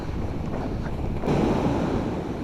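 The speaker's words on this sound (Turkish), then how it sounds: "Aslında dalga biraz yüksek" Sea waves wash against the shore with a rough, continuous roar, and heavy wind buffets the microphone, swelling noticeably halfway through.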